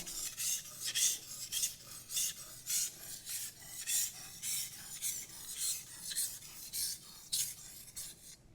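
A kitchen knife is pushed firmly back and forth in even, rhythmic strokes, each one a dry rasping scrape. The strokes come close-up and repeat about twice a second, with no talking.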